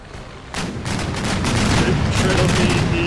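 A musket volley from a land battle in Empire: Total War, a dense, rolling crackle of gunfire that swells after a brief lull and keeps going as a thick sustained fusillade.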